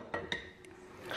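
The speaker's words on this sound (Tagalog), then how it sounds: "Yung mga sandok, tsaka kaldero." A toddler knocks metal ladles against cooking pots, giving two sharp clanks near the start and another near the end, with lighter taps between them, close by in a quiet home.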